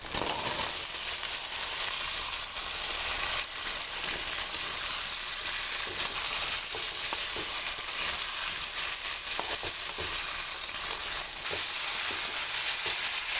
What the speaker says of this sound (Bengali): মশলাটা আমি খুব ভালো করে ভেজে নিয়েছি এবারে ডাটাগুলো দিয়ে দেবো